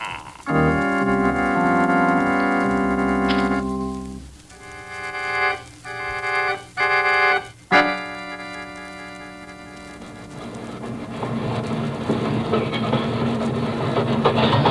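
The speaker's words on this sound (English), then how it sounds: "The train is slowing down, Ken." Mechanical train rumble with tonal whines that drops away, resumes in short bursts, then settles into a lower, rougher rolling noise as the train slows into rail yards.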